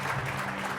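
A church congregation at a Hindi-language Christian worship service claps for the Lord in a dense, loud burst of applause that fills the brief moment.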